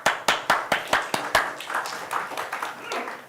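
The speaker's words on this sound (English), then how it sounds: "I would like to give you guys just a round of applause just for being here" Applause from a tech conference audience, starting with a few sharp, evenly spaced claps, then thickening into a looser patter that fades out toward the end.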